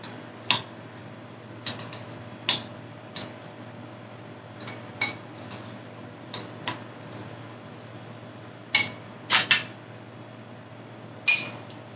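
A spoon taps and clinks against a bowl while mango salsa with coriander leaves and lemon juice is mixed, giving about a dozen sharp, bright clicks at irregular intervals over a quiet background hum.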